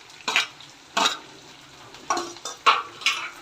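Dried red chillies and curry leaves fry in hot oil for tomato rasam, heard as four or five short, bright bursts of sizzling and stirring in a pan, close and separated by brief quiet gaps.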